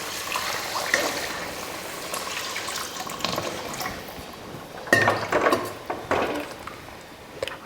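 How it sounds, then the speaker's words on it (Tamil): Water being poured into a pan of egg curry during cooking, an uneven splashing pour with clinks and handling noises, louder bursts in the second half. "இந்த மாதிரி வதக்கி விட்டுட்டு இப்போ தண்ணி சேர்த்துக்கலாம்."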